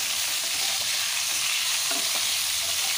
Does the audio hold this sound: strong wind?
no